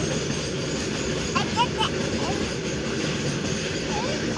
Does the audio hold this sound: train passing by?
yes